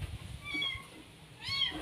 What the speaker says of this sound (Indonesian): Kucing tuh.